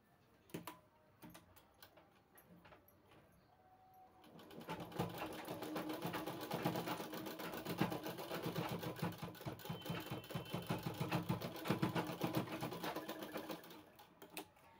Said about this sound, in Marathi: त्यानंतर एकदा ह्या प्रकारे फोल्ड करायचं आहे आणि आपल्याला याला शिलाई मारून घ्यायची आहे.